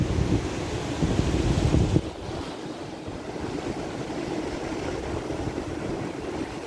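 Surf and wind on Maspalomas beach, Gran Canaria, in the late afternoon: a steady broadband wash of waves with gusty wind buffeting the microphone, louder for the first two seconds and then settling into a constant roar.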